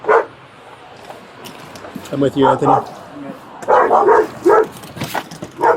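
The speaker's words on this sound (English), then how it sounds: "There's 2 dogs." Dogs bark in short bursts a little distance away while someone talks nearby.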